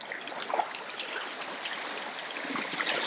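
Sea waves on a winter beach washing back out to sea, a continuous hissing, trickling backwash of water over sand and stones, fairly faint and steady without voices.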